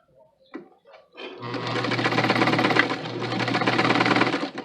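A sewing machine runs steadily along a waistband casing, a close, loud, even motor hum with a rapid needle clatter lasting several seconds, after a few soft handling clicks and bumps at the start.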